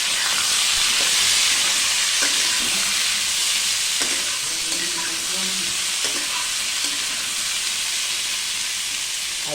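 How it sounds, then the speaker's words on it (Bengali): Diced potatoes, tomato and peas fry in spiced oil in a pan in a home kitchen, giving a loud, steady sizzle with occasional clicks of stirring throughout and no voices. "এখন আলুটা, টমেটো কেটে দিয়ে দিলাম, এবার আলুটা দিয়ে দিচ্ছি,"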